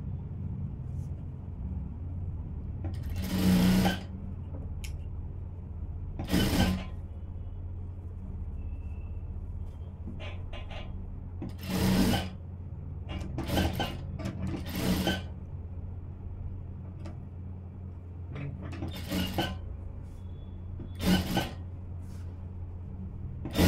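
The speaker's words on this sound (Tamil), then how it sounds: "இப்போ நம்ம தைக்க ஆரம்பிச்சிடலாம்." A sewing machine stitches a blouse in short, separate runs. Each run is a brief whirring burst of a second or two, and the runs are spaced several seconds apart over a quiet low hum.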